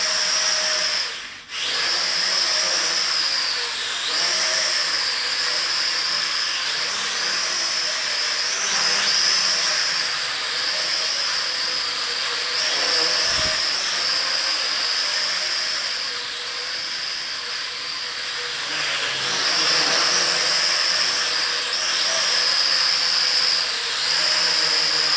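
Close, continuous high-pitched whine of a KAI DENG K60 HD quadcopter's motors in flight without landing gear or camera, its pitch wavering steadily as the drone adjusts throttle for about 25 seconds.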